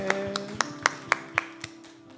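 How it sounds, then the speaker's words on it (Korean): About eight evenly spaced claps ring out in a steady rhythm during a family church worship service, over a soft, sustained low tone. "박수 올려드리겠습니다."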